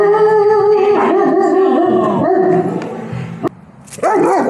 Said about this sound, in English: He barked at most of the people we saw at a distance